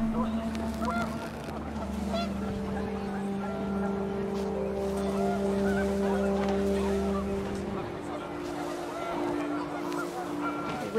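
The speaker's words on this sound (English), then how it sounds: "The wind picked up, and panicked geese appeared and quickly went." Panicked geese honking in What Remains of Edith Finch, with wind rising: overlapping sustained honks and calls layered with droning tones and a steady ambient wash across the whole stretch.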